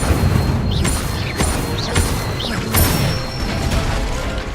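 An Incendio fire spell cast in the video game Hogwarts Legacy, heard as several sharp whooshing bursts and crackling flares over a steady noisy background, about three strong hits spaced roughly a second apart.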